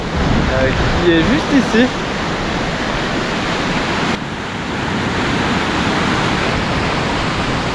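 The Arve river rushes through the Chamonix valley in the Alps as a constant, broad roar that stays loud throughout, with someone speaking briefly in French over it near the start.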